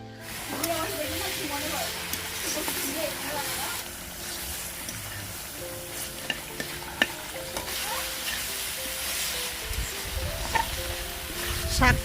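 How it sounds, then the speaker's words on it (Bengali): Greens being stirred as they cook dry in a pan over a clay stove, a continuous close sizzle and hiss with scraping spoon strokes, while someone talks over it and faint background sounds drift in. "শাকটা নাড়তে হবে"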